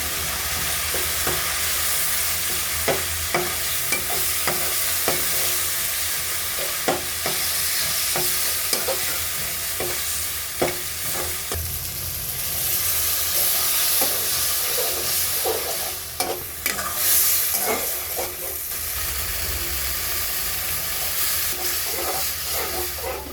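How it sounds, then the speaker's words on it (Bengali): Masala with peas is stir-fried in a pan, a steady hiss and sizzle broken by repeated scraping clicks of a spatula as the mix is stirred, close and continuous with no talk. "ভালোভাবে মশলাটাকে আমি সময় নিয়ে কষিয়ে নেব।"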